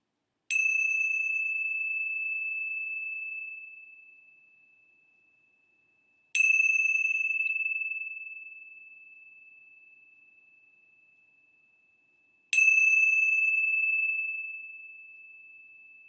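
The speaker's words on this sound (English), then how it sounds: "let's begin our time together with the bells of hope." Three meditation bells ring alone at even intervals of about six seconds, each a clear bright strike whose pure tone rings on and slowly fades to near silence before the next.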